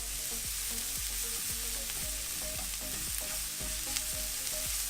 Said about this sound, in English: cook the noodles first. And now I start mixing with the rest of the vegetable